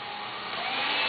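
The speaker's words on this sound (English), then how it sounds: "Jack just loves to do the vacuuming" A vacuum cleaner run by a child gives a steady, loud motor whine that holds evenly and swells a little toward the end, with no talking.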